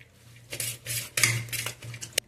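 A spoon scrapes and clinks against a dish as mixed bhel puri is served out, a few short scrapes with a sharp metallic tap, close and clear.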